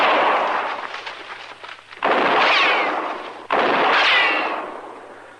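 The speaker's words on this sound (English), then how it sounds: "Chester, when I fire, you'll roll away fast" Two loud sound-effect gunshots from an old-time radio western drama, each a sharp crack with a long echoing ricochet tail, separated by about a second and a half of fading reverberation.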